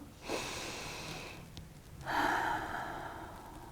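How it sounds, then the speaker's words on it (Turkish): A deep breath during a guided breathing exercise: a soft, close inhale followed after a brief pause by a longer, slightly louder airy exhale, quiet overall. "Derin bir nefes al"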